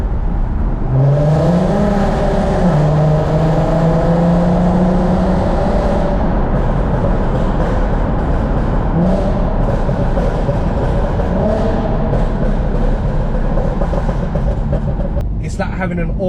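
A 2005 Volkswagen Golf R32 Mk5 engine roars and revs loudly in a tunnel, echoing, the pitch climbing and falling through gear changes, with a steady heavy drone underneath.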